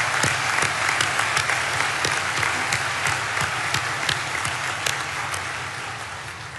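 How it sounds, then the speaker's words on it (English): Sustained applause from a large university commencement audience, steady and full, slowly tapering toward the end. "Let's have a round of applause for all 4,"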